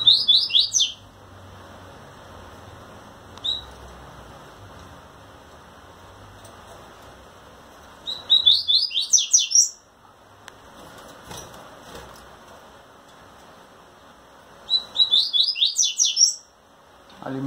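A caged rusty-collared seedeater sings to a female while shivering its wings, giving three bursts of bright, rapid warbling notes separated by long pauses, with faint rain-like background noise between phrases.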